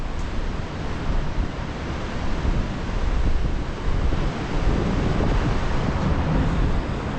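Waves wash onto a golden sandy beach at Zarautz, Spain, a steady broadband roar of surf mixed with wind on the mic, loud and continuous with gentle swells in level and no voices.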